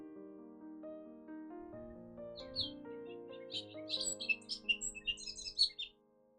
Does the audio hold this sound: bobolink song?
yes